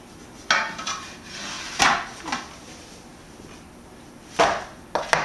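A pizza pan is handled as dough is set on it, giving several sharp, separate knocks and clatters spaced irregularly over a quiet background.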